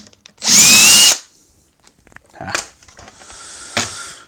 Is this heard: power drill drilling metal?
yes